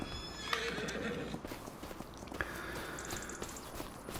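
Horse in the video game Farming Simulator 25, hooves clip-clopping in a steady walking rhythm at moderate distance, with a whinny and a few faint game chimes over quiet background.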